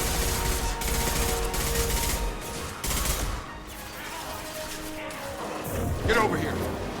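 Gunfire in the video game Mass Effect 2, bursts of shots and impacts mixed with game music and effects, heard under a player talking over the action.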